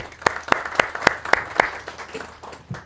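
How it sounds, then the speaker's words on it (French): A small audience at a Bitcoin talk in Gabon gives a short round of applause for a woman, with about seven distinct, evenly spaced claps standing out over a softer patter that fades. "Est-ce qu'on peut applaudir pour elle, s'il vous plaît?"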